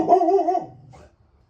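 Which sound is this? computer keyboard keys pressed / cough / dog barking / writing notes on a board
dog barking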